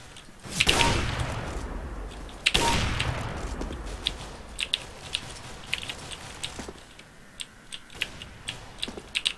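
Gunfire from P90 submachine guns in a video game deathmatch: two loud bursts near the start, then a string of sharp, scattered single shots and short rattles continuing at a distance.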